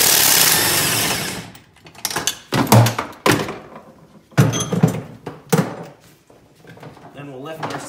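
The seat of a Can-Am X3 side-by-side is lifted out, giving a series of dull plastic thunks and clunks at close range, with a voice talking between the knocks.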